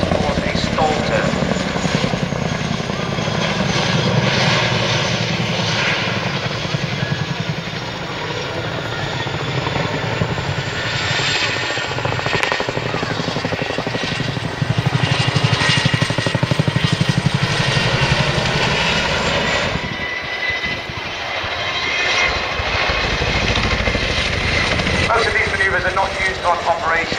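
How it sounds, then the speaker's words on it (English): A Boeing Chinook twin-rotor helicopter manoeuvres at low altitude at an air show. Its loud, continuous roar and heavy rotor throb swell and shift as it moves, and a commentator talks over it throughout. "we'd just like to show the manoeuvrability of the Boeing Chinook"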